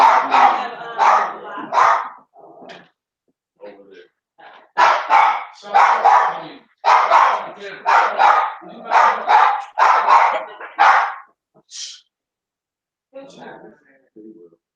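A dog barks in a house during a real estate coaching session, with repeated loud, close barks and yips in irregular bursts mixed with people talking.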